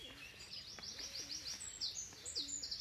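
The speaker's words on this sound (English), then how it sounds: "And then, of course, the wren." Wren calling during a spring bird walk in Brockwell Park, a loud rapid series of high trilling notes repeated through the clip over faint distant birdsong, with no talk.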